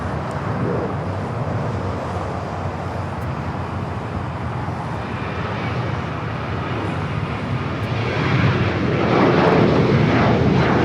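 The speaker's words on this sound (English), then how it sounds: "This is Alaska Airlines 1352 taking off to San Jose, Costa Rica" An Alaska Airlines Boeing 737-800 takes off at LAX, a steady broadband jet roar that swells louder toward the end as the aircraft climbs out nearby, with no voices.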